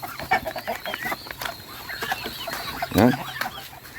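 Ducks crowd around on a rural farm, a busy flock of loud, overlapping quacks and clucking calls repeating through the scene, with one sharp louder call near the end and someone speaking briefly.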